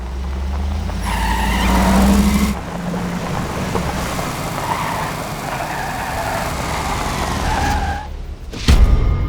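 A car starts off and drives away in a haunted setting, its engine rumbling loudly and steadily throughout, with a brief mechanical surge near the end.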